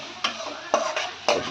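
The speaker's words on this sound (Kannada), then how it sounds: "ಸಬ್ಜಿ ತೊಗೊಂಡು ಅಳ್ಳಾಡಿಸಿ ಚೆನ್ನಾಗಿ ಮಿಕ್ಸ್ ಆಗ್ಬೇಕದು ಜೀರಿಗೆ ಜೊತೆ ಮತ್ತು ಕರಿಬೇವು ಜೊತೆ" A spoon stirs vegetables with cumin and curry leaves in a frying pan, four distinct scraping strokes over a soft, steady sizzle, with no voices.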